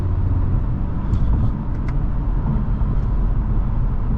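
A 2020 BMW 530d xDrive diesel saloon drones with a low, steady engine and road rumble from inside the cabin while driving, with a few faint higher squeaks over the constant noise.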